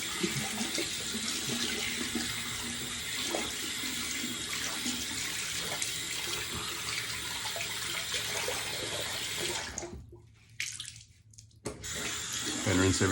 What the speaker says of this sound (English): And rinse everything out here.